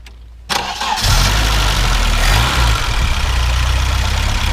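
A 1976 BMW 2002 coupe with a four-speed transmission, its engine cold, cranks briefly and catches, then settles into a steady, loud, close idle.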